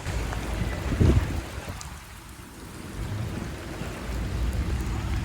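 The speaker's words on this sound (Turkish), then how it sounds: "Eskişehir'de şiddetli sağanak ve dolu nedeniyle yollarda su birikintileri oluştu." Heavy rain and hail beat down on city streets in Eskişehir, forming a dense, continuous hiss of water with a brief louder thump early on, steady and enveloping without any voices.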